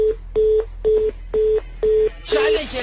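Repeated loud beeps from a telephone line after a call drops, six evenly spaced mid-pitched tones about half a second apart, the last one overlapped by a burst of noisy radio-show sound.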